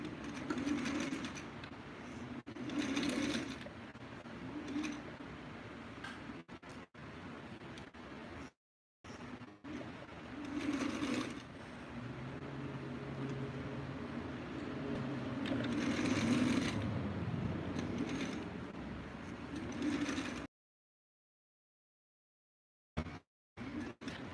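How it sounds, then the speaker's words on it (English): A sewing machine runs a back stitch with a steady, close mechanical whirring and ticking. It stitches in runs separated by short stops and falls silent near the end. "And then do a little back stitch."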